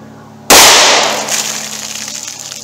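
A single loud gunshot from a .327 Federal Magnum Ruger LCR revolver at an outdoor range, a sharp blast whose ringing echo fades away over the next couple of seconds.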